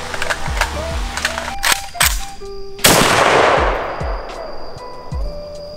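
A gold AK rifle fires a few sharp, loud single rounds close by, each crack followed by a brief echo, with a burst of louder reverberation near the middle of the clip.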